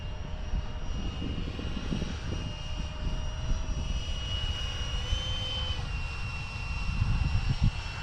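Steady whine of a jet-powered FliteTest Flerken model airplane in flight, held at a constant pitch over gusty outdoor rumble at moderate distance, with no talking.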